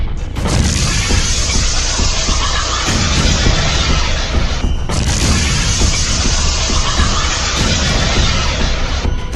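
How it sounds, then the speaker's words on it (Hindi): A loud, sustained roar of blast and crashing noise from an anti-tank missile explosion near Ramim barracks on the Lebanon–Israel border fills the clip, with a sharp burst midway, dense and harsh throughout with no talking. "हिजबुल्लाह के लड़ाके रमीम बैरक के पास एंटी टैंक मिसाइल फायर करते हैं और फिर होता है ये धमाका"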